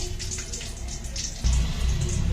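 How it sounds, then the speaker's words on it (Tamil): Water pours steadily into a chutney with a continuous splashing rush that grows fuller and louder partway through. "நான் வந்துட்டு நல்லா தண்ணி ஊற்றிக்க போறேன்."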